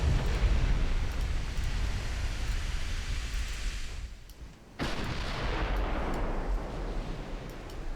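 Continuous rumbling barrage from 4-inch naval guns firing at a battleship in a naval strategy game, a dense roar of overlapping blasts that dips briefly before resuming at full loudness.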